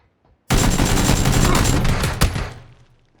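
Dense burst of automatic gunfire in a video game match, a sustained rattling volley of rapid shots that starts abruptly, holds loud for about two seconds with one sharp report near the end, then fades out.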